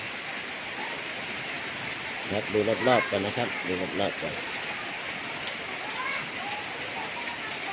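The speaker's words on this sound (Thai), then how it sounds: "ฝนตกครับ ฝนตกแล้วนะครับฝนตกแล้ว" Steady rain hisses throughout, with someone talking briefly over it in the middle.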